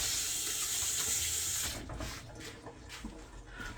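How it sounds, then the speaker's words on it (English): Running kitchen tap water splashes steadily as hands are rinsed under it, close and fairly quiet, then the flow cuts off and gives way to soft handling sounds. "I'm going to rinse my hands real quick"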